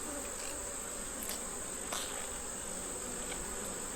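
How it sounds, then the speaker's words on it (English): Honey bees buzz as a beehive frame is inspected, making a dense, steady hum from many insects close by. A high continuous whine runs alongside, with a couple of faint clicks and no speech. "I see a lot of bees."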